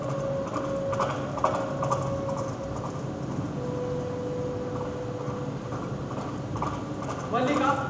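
Horse hooves clip-clop as a staged sound effect during a live theater performance of the play Aashad Ka Ek Din, a steady rhythmic trotting heard beneath sustained background sound, ending with a brief louder burst near the close.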